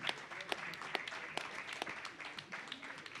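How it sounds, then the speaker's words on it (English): An audience at a reggae event applauds the Wailers musicians Fully Fullwood and Junior Marvin, a steady dense wash of many hands clapping, fairly faint and distant, with no clear break. "Please, another big round of applause for Fully Fullwood and Junior Marvin."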